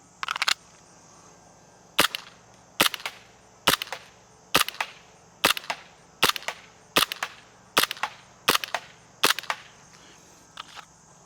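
A KWA P226 airsoft pistol running on green gas fires about eleven sharp, loud shots. Each one is a crisp pop, spaced at a steady rhythm under a second apart, with a faint background hum and no talking.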